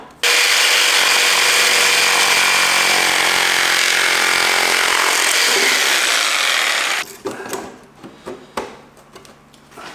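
Power tool cutting a race car part to fit, a loud steady whine running close and unbroken for about seven seconds before cutting off, followed by scattered clanks and handling noises.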